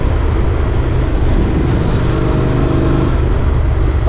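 A Honda NC750X motorcycle cruises steadily out of town toward the Black Forest in Germany, its engine droning continuously under loud, rushing wind noise with no break in the sound.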